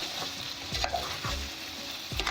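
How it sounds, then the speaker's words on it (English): Chicken sizzles steadily in a pan, close and continuous, with a few soft scrapes of stirring on top and no voices. "I'll just let it fry for about 10 minutes and it should be done."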